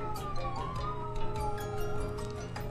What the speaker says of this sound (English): Don't know if you heard that there were sirens.